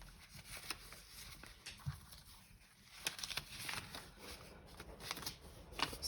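Packaging paper is handled up close, soft crinkles and rustles coming in small irregular bursts, faint and scattered across the whole stretch with no talking.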